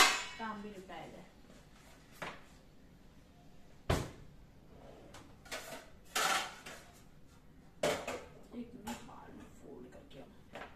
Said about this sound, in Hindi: तो मैंने कहा चलो बर्तन भी लगा लिए जाए साथ के साथ